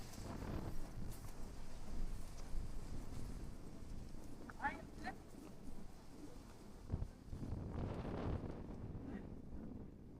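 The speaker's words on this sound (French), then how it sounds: "Donc il y a du vent, ça c'est sûr" Wind in the Netherlands buffets the microphone in low, rumbling gusts, with faint voices and scattered knocks in the background.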